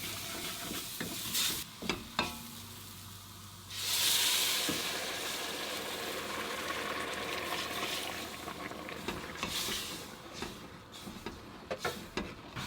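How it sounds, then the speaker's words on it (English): Vegetable stock goes into a hot pot with tomato paste, spices and herbs, giving a quiet hiss and sizzle. A louder burst of steam follows, then soft stirring and scraping sounds continue. "So I've added my 550 ml of vegetable stock to the hot pot."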